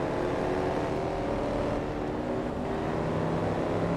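GT1 race car engine in the Forza Motorsport 2 video game, a steady droning roar held at constant pitch without gear changes, moderately loud and alone with no talk.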